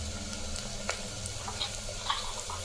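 Curry leaves hiss and sizzle steadily in hot oil for a brinjal, drumstick and raw mango sambar, with a constant close frying fizz broken by a few sharp crackles.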